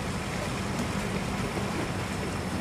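Fishing trawler from the Lagi trawl fleet out at sea, a steady dense rush of engine, wind and water noise, loud and unbroken throughout with no voices.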